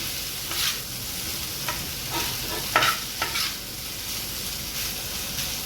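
Dried shrimp (sukka jawala) frying in oil on a flat tawa for a spicy Agri-style dry fry, giving a steady close hiss with a few brief louder crackles and stirring scrapes.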